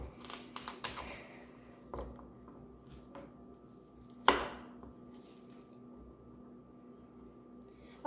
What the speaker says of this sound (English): You cut the tops and the bottoms of each of the celeries,